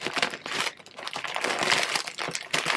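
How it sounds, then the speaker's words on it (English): A packing slip and a thank-you card slide into a mailer envelope for a shipped shop order, a close, continuous rustle and crinkle of paper with no voices. "Just put my packing slip and my thank you card in there."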